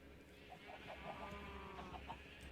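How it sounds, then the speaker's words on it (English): Chickens in Minecraft cluck in short, repeated bursts, a handful of quick game-sound clucks over a low steady background, moderately close and without talk. "I'm getting so many damn eggs from these chickens."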